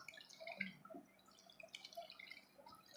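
Homemade pine oil dishwashing liquid is stirred, giving soft, faint drips and light sloshing of liquid at close range with no voices.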